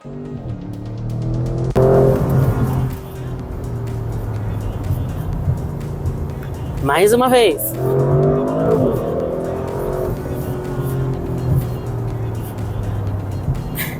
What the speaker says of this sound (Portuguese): Olha a redução quando ele faz aquele ploc-ploc e escuta o som na aceleração.